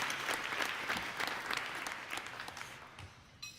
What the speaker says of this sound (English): I'd like to send out a round of applause to the Denver Museum of Nature and Science for an excellent